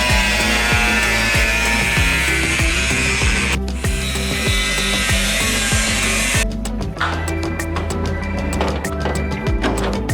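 Loud, continuous power-tool cutting through the quarter panel of a Mercedes E63S, a steady sawing whine with rapid rhythmic strokes, pausing briefly twice before resuming with choppier bursts.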